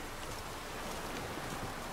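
Steady rain falls during a thunderstorm out on the open water in The Witcher 3, forming an even, unbroken wash of noise with no distinct drops standing out.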